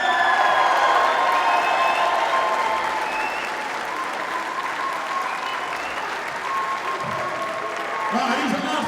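Boxing arena crowd after an English cruiserweight title fight applauds and cheers steadily, with shouts scattered through the dense clapping.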